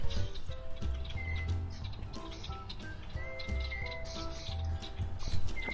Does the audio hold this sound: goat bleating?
no